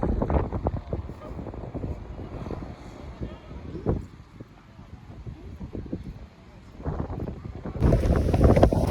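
Strong wind on a road in Tangier, Morocco buffets the microphone during a bicycle ride in loud, gusty rumbles that rise and fall, with a brief lull before the gusts pick up again.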